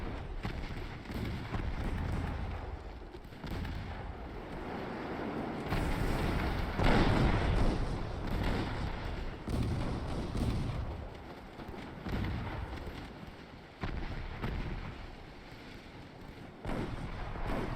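A bomb detonates near a heavy cruiser in the naval war game Sink the Bismarck, heard as a series of heavy booming blasts and rumbling bursts over about eighteen seconds, loud and fairly close, with no talking.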